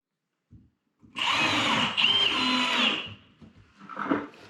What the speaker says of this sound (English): I'm going to screw another cleat on this side